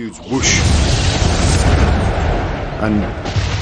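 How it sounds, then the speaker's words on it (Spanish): A loud, sustained rumbling roar from the Piper Alpha oil platform explosion fills the whole stretch with dense low-end noise and no clear pauses. "un segundo después hubo una enorme explosión"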